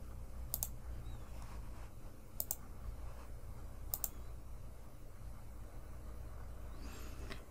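Mouse clicks while adding photos to a page design on a computer: three quiet, sharp clicks spaced about two seconds apart over a low steady hum, with no speech.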